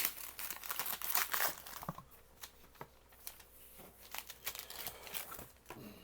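Paper wrapping crinkling and tearing as a new ESV Thompson Chain Reference Bible is unwrapped, close bursts of crumpling rustle, loudest at first, then quieter intermittent crinkles.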